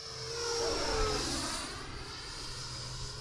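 An E-flite Viper 90mm electric ducted-fan RC jet passes at about half throttle, its steady whooshing whine swelling as it approaches, peaking near the middle, then easing off as it cruises away; no talk.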